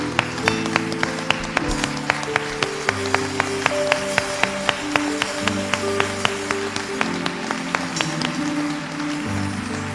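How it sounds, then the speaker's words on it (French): A church congregation in Tsévié, Togo, claps steadily at a quick regular beat, mixed with loud acclaiming voices and music filling the room. "Acclame très fort le Seigneur."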